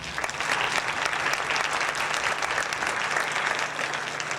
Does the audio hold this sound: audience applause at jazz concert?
yes